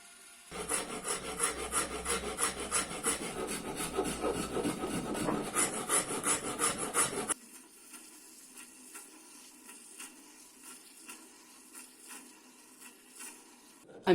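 A file rasps back and forth over a wooden knife handle, rounding it, in loud, rhythmic scraping strokes for several seconds before dropping to quieter, sparser rubbing.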